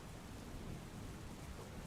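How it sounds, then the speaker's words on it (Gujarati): Heavy monsoon downpour in Kutch, Gujarat, a dense continuous wash of rain with low rumbling underneath, steady and fairly faint throughout. "ધોધમાર વરસાદ કચ્છમાં પણ વરસી રહ્યો છે."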